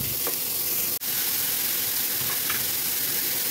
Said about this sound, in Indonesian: Kemudian aku akan masukkan itu daging sapi cincangnya, kita akan tumis dulu.